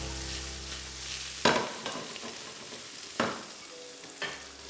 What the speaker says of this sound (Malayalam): ഒരു 10 ചുള ചുവന്നുള്ളി ചെറുതായിട്ട് അരിഞ്ഞതാണ്, ചെറിയ ചുവന്നുള്ളിയാണ്. പിന്നെ നന്നായിട്ടിട്ട് വഴറ്റി കൊടുക്കാം.